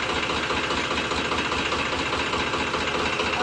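A tractor engine runs steadily while ploughing a farm field, a dense continuous mechanical rumble with even knocking pulses, loud and close with no break.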